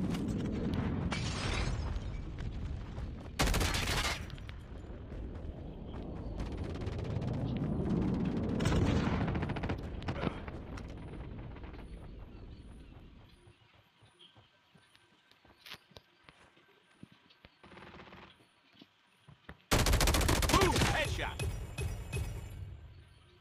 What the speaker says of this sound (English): Enemy strafe run is inbound.